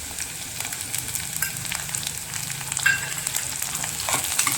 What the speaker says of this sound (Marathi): टॅमॅटो 1-2 मिनिटं शिजवून घ्यायचं।